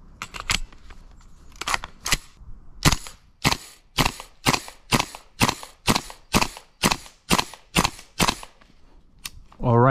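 An airsoft gun firing at about six rounds per second outdoors: a string of sharp, close, evenly spaced cracking shots, around fourteen in all, each standing clearly out of the quiet.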